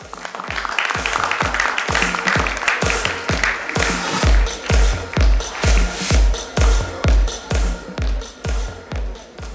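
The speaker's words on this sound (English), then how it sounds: "Let's give him a huge round of applause" An audience at a nursing conclave in a Mumbai hotel breaks into a dense round of applause that settles into loud, rhythmic unison clapping, its beats close and regular.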